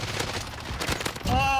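Gunfire rattles in Call of Duty Warzone in a quick burst of shots, partly under excited voices, ending in a louder close-range hit.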